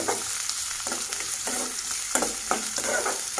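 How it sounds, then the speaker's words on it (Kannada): Onions frying in oil for garlic rice, a constant close sizzle broken by repeated scraping stir strokes of a spatula in the pan, with no voices. "ಆನಿಯನ್ ಬ್ರೌನ್ ಕಲರ್ ಬರಬೇಕು ಅಲ್ಲಿ ತನಕ ಫ್ರೈ ಮಾಡ್ಕೊಳ್ಳಿ"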